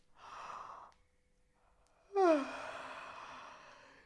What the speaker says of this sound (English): First thing I want you to do is yawn.